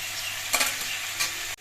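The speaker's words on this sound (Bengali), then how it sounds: "আর ঠোঁটটা আরেকবার নেড়ে চেড়ে দিচ্ছি" Banana stem curry frying in a pan while it is stirred: a constant soft sizzle broken by two brief scraping sweeps of the spoon, close up, with no talking.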